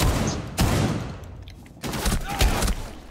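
Shotgun blasts in a Rainbow Six Siege match, two heavy booming shots a little over a second apart, loud and close amid dense game noise.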